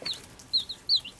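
Young Brahma and Araucana chickens make short high peeping clucks, four quick chirps spaced about a third of a second apart over a quiet background, close and fairly soft.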